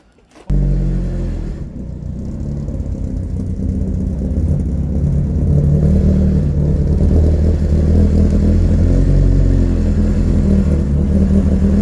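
A turbocharged Toyota Starlet engine cranks and fires into a loud, close, rumbling idle with slight clatter, holding steady and strong until the end.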